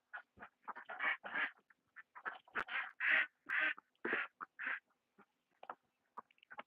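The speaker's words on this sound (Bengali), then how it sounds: "দেখতে পাচ্ছেন হাঁসগুলো কিন্তু উপরে উঠছে আর যে হাঁসগুলো খাবার চাহিদা আছে সেগুলো এখনো কিন্তু খাবার খাচ্ছে" Ducks on a duck farm quack in a rapid, overlapping series of nasal calls, bunched then tapering off into sparse quacks, fairly close.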